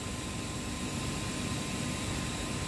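A CNC milling machine running a program with G68 angular rotation, giving a steady, loud broadband whir and hiss that stays constant throughout, with no speech.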